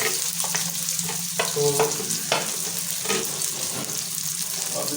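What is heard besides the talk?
chopped onion frying in hot ghee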